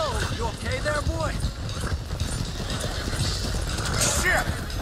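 A stallion from the game Red Dead Redemption 2 neighs in loud, rising whinnies at the start and again near the end, over continuous close clip-clop of hooves on ground.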